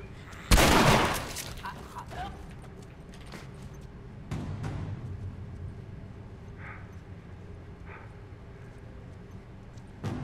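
A single loud shotgun blast from The Last of Us on Grounded mode, followed by a fainter second shot and quiet ambient game background.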